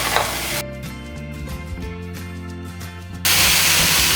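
Ground onion chutney goes into a hot pan and is stirred, with a loud burst of sizzling at the start, quieter scraping and stirring through the middle, then a strong steady sizzle again at the end.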